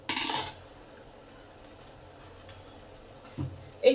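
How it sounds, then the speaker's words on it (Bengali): A perforated metal dish set into a steamer of boiling water for modak, giving a brief loud metallic clatter at the start and a smaller clink near the end, with quiet in between. "সেই ফুটো ডিশ দিয়ে দিলাম।"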